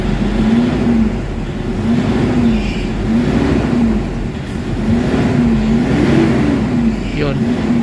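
A Toyota Hilux engine suffering low power, throttle delay and a non-working turbo idles and revs in repeated rising-and-falling surges, a close, loud mechanical drone with a faint whine on top.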